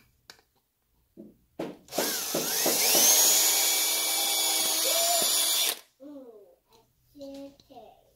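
A small power drill with a 9/64 bit whines loudly for about four seconds, steady with slight pitch shifts, framed by a few short clicks and brief speech afterward.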